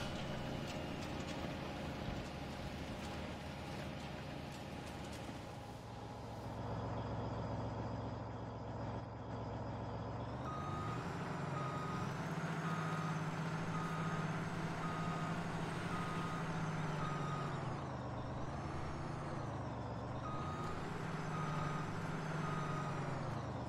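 A truck's reversing alarm in Farming Simulator 17 beeps steadily and repeatedly over a continuous engine drone, with the pitch of the engine shifting as the vehicle maneuvers.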